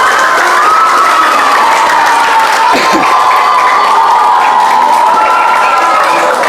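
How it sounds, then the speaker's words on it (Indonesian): A large crowd at an Islamic gathering roars with sustained cheering and shouting, mixed with scattered clapping, a loud, dense and continuous din with a prominent sustained vocal tone. "Tepuk tangan semuanya sekali lagi."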